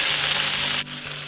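Pumpkin greens hit hot oil with cumin seeds and browned garlic, giving a loud, close, hissing sizzle that suddenly drops to a quieter fry near the end.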